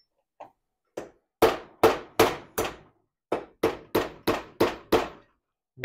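A hammer strikes a punch on a door hinge from an RA24 Toyota Celica, delivering two soft taps and then two bursts of loud, sharp metallic blows at a steady rhythm, separated by a short pause.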